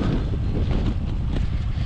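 Steady wind buffeting the microphone while cycling uphill on a road climb toward a summit, partly a headwind; a continuous low rumbling roar fills the clip with no talk.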